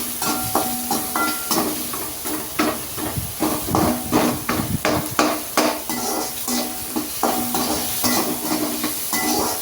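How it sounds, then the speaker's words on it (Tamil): Onion and curry leaves fry in a pan with a steady, close sizzle while a utensil stirs and scrapes the metal in quick repeated strokes. "அதே பாத்திரத்தில் நம்ம மீடியம் சைஸில் ஒரு வெங்காயம் போட்டு நல்லா வணக்கிக்கலாம்."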